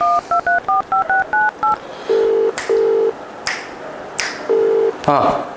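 Series of short DTMF keypad tones as a phone number is dialed, followed by several longer steady tones like a ringback, with faint room noise and a brief clatter at the end.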